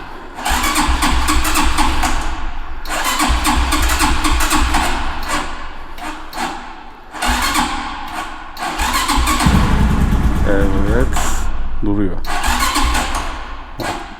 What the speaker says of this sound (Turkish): Tamam bu motor çalışır.